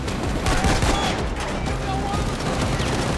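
Rapid, continuous fire from a sentry gun in the heist shooter Payday 2, a dense rattling stream of shots amid other gunfire, loud and unbroken, with faint voices mixed in.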